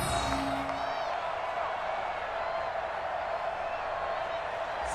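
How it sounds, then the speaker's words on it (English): Crowd in the Madden NFL 20 video game, a Ravens versus Chiefs match during a late fourth-quarter two-point conversion attempt, giving a sustained roar of cheering that fills the whole stretch at an even, distant-sounding level. "Listen to this crowd now."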